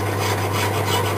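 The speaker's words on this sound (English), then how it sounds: "I'm really going lightly with the files, both files." Hand files rasping lightly over the metal of a bolt-action pen, a steady continuous scraping at close range with no voices.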